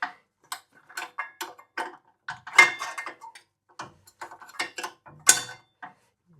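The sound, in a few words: spanner working a fitting on a Suffolk Pony engine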